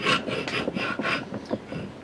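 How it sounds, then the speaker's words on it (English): Hand rasp filing and shaping a wooden fork cut from a big tree, giving close, scratchy rubbing strokes in a quick back-and-forth rhythm with no talk. "Just shaping it more with the rasp."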